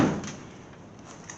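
A 1960 Ford F100 pickup door swings shut with one solid thud right at the start, then settles into a low, quiet shop hum with no talking.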